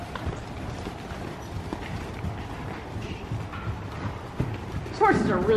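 Horse hooves clip-clopping on an arena surface during a riding lesson, a faint rhythmic canter under ongoing background chatter, with a louder voice breaking in at the end.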